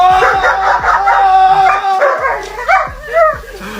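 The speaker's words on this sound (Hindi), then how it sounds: "उसका कुत्ता अपने ओनर को बचाने के लिए जोर जोर से भौंकता है" A dog barks loudly and repeatedly in quick yipping bursts, close by, mixed with whimpering and howl-like cries over a steady background hum.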